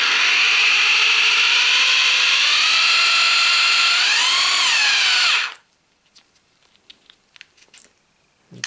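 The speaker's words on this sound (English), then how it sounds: "So this is just drilling." Bosch GBH 3-28 DFR 800 W hammer drill running in plain drilling mode without hammer action, a loud steady high whine for about five seconds that stops abruptly, followed by quiet faint clicks and handling.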